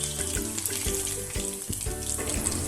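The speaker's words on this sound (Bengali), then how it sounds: "এবার আর খানিকক্ষণ ফ্রাই করে চিকেনটাকে আমরা তুলে নেব" Chicken pieces fry in a pan with a steady, moderately loud sizzle and crackle, broken by irregular bursts of popping oil.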